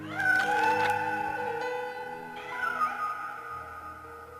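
A kitten meows in the Dark Tales video game, giving a few drawn-out, tonal meows that rise and fall, heard alone and fairly close with no talking.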